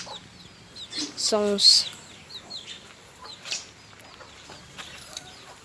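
Chickens in a coop let out a few clucks and chirps alongside small chicks, moderately close, while someone talks quietly over them.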